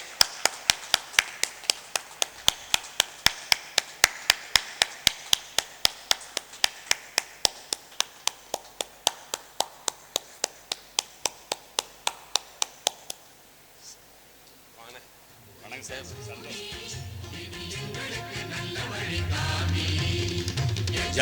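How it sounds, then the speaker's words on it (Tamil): Steady rhythmic clapping from an audience at a Tamil astrology talk greets a speaker coming to the stage, a long run of crisp, even claps that stops and gives way to murmuring and rustling. "அப்படியே உங்களுடைய கரகோஷங்களோட ஐயா வரவழைங்க."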